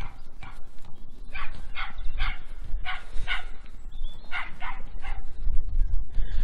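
A dog barks repeatedly in short bursts of two or three, mid-distance, over a steady low rumble of background noise.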